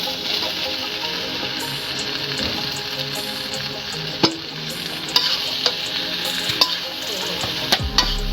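Fried potatoes are stirred into a sizzling spice paste for a young-jackfruit kalia, with continuous frying hiss, scraping spoon strokes and several sharp clinks of utensil against the pan, no voices.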